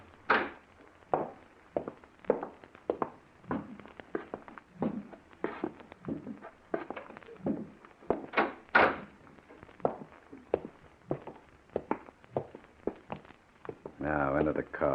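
Footsteps in an old-time radio mystery drama thud at a steady walking pace, close and distinct, and a door scrapes open near the end, with a faint voice underneath.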